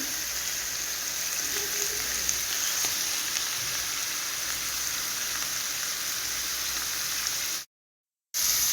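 Thin slices of meat sear in a hot pan with a steady, dense sizzle that holds evenly throughout, broken by a brief gap of silence near the end.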